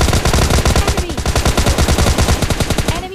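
Rapid automatic gunfire in PUBG Lite, loud close bursts of evenly spaced shots running almost continuously with a brief lull.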